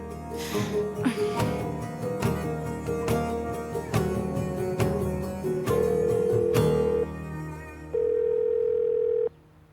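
A phone rings out on speakerphone with repeated ringback tones and steady dial-tone bursts, loud and close, over a soft background score in a Turkish drama scene, with no talking.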